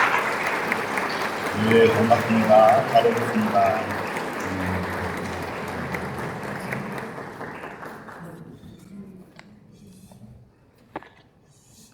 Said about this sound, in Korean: 박수를 한번 다 같이 환영하도록 하겠습니다